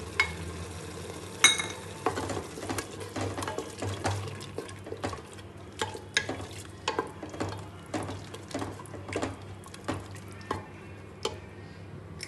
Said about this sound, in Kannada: ಇವಾಗ ಮೊಸರು ಹಾಕೋತೀನಿ.